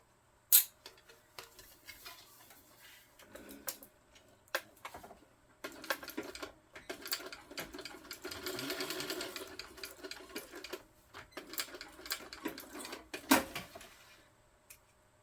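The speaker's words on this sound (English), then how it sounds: "so I back stitch it" Sewing machine back stitching a tote bag, running in short bursts and then a longer steady run with clicks and handling noises between, fairly quiet and close.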